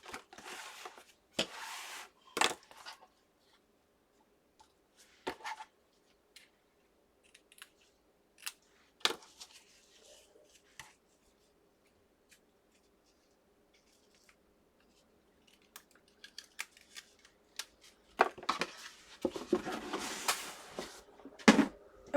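Scissors snipping paper for a Christmas accordion scrapbook booklet, scattered crisp cuts with long quiet gaps, then a denser run of rustling and cutting near the end.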